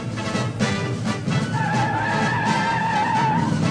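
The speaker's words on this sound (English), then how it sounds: "Our Javelin wasted no time coming off the line." A 1971 AMC Javelin with a 3-speed automatic launches hard off the line on Goodyear E60 15 tires, loud engine roar with tire squeal rising into a sustained wail.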